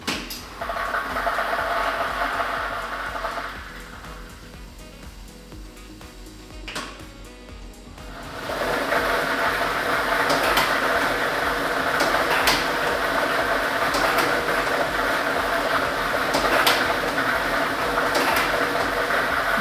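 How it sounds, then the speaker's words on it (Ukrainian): A lottery ball drawing machine runs with a continuous whirring rumble and rattling of tumbling balls, dipping briefly before surging louder and steady, punctuated by sharp clicks. "І ми вмикаємо лототрон"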